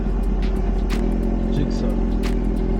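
An extended Suzuki Gixxer motorcycle passing at night on a beach road, its engine drone rising briefly over the steady rumble of a car interior, with someone talking throughout.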